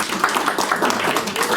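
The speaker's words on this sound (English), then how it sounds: "give me a round of applause if you go to shul literally just like once a week" A live comedy show audience applauds and claps together, a dense steady wash of many hands close by that runs without a break from start to finish.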